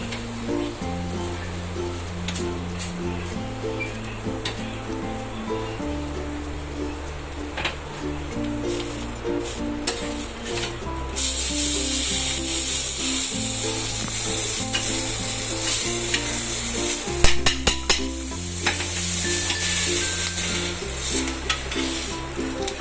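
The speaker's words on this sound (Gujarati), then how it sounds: "હવે આવી રીતે આપણે બીજી શેકી લઈશું." A dabeli bun roasts on a hot pan, giving a steady close sizzle with occasional scraping and stirring sounds, over a continuous low background hum and no talk.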